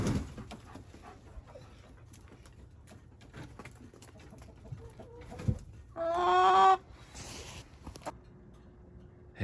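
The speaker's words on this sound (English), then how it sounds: "Chickies." Backyard chickens on a muddy, thawing farm give soft scattered clucks, then one louder drawn-out call rises for about a second amid faint outdoor background.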